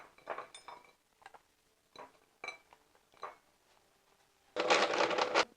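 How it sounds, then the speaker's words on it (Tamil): Dates being ground lightly in a dry kitchen mixer grinder for sugarless dry fruit laddoo: a loud, harsh whirring burst of about a second near the end, after scattered clinks and knocks of utensils. "இந்த பேரிச்சம்பழம், இதையும் நல்லா ட்ரையான மிக்சியில் போட்டு லேசாக நம்ம ஓட்டி எடுத்துடலாம்"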